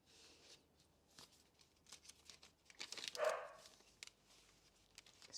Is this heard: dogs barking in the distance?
yes